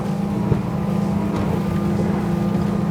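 A Protagon 25 Space motorboat runs its engine flat out at 6000 rpm, a loud, steady, continuous drone mixed with rushing wind buffeting the microphone as the hull skims over the water, with no one talking.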